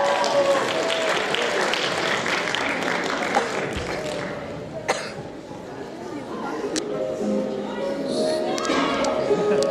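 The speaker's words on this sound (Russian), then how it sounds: "Аплодисменты." Concert crowd at an outdoor rock festival applauding continuously, a dense broadband clatter of clapping mixed with cheers and chatter, loud throughout with a brief dip midway before swelling again.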